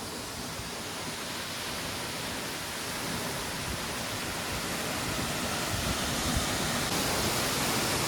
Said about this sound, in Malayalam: കേട്ടോ വെള്ളം ചാടുന്ന കേട്ടോ